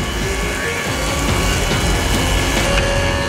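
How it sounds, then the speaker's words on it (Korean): A wood grinding machine sands rough, dried lumber whose grain has lifted, giving a steady, loud industrial roar with a continuous abrasive hiss and faint tonal hum, constant throughout with no voices. "이것을 사포질하는 것과 같은 역할을 하는 목재 그라인딩 기계에 넣으면"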